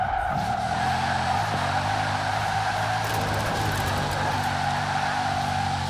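A Bugatti Chiron in Forza Horizon 4 roars under full acceleration, a steady loud engine drone mixed with a high, sustained squeal of tires, and nobody speaks.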